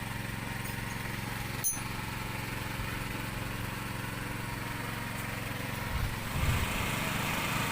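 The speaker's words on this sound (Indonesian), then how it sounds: "Oke, kita lanjut ngebornya lagi." A well drilling rig's engine runs steadily and loudly, a continuous droning hum with a brief knock partway through and a slight rise in rumble near the end, no talk over it.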